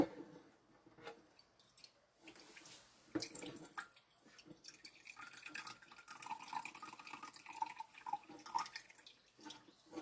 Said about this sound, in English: So I'm going to put 1/2 cup of water.